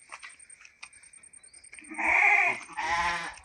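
Sheep in a shed on a farm plot with coconut trees give two loud, wavering bleats close by, following quieter scattered clicks and rustles.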